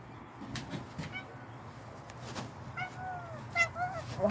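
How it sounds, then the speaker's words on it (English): A house cat meows several times in a workshop where a 1971 Gibson SG is being repaired, the short rising calls coming late and fairly close over a low background hum. "What's up, cat? What are you meowing to?"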